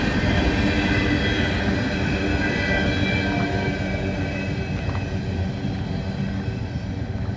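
Freight train cars rolling steadily past at Abbeville, a loud, continuous rumble of wheels on rail with a few faint squeals, close and unbroken throughout with no talk.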